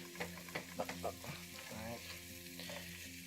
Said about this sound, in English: Now I'm just gonna stir, combine everything.